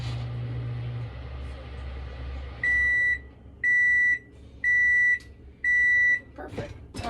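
An oven timer signals a finished cake with four loud, evenly spaced, high-pitched beeps, each lasting about half a second, and kitchen sounds and talk around them.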